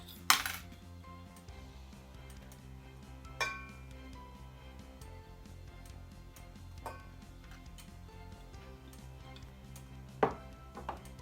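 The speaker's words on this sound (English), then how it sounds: "I'm just going to chop them up and add them in with my oil" Knife chopping potatoes on a cutting board for patatas bravas, a few sparse sharp thuds spread over a quiet, low kitchen background with no talk.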